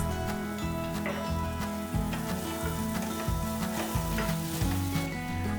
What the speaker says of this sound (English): Into the cooker goes all the hard veggies and give everything a good mix.